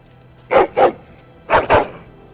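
Four dog barks from the video game Dragon Age: Origins arrive in two quick pairs, loud and close, with a short gap between the pairs and no talk over them.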